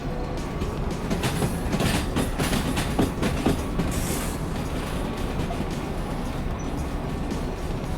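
A train in the video game Derail Valley runs steadily, a loud continuous rumble with rhythmic clickety-clack of wheels over rail joints and no talk over it.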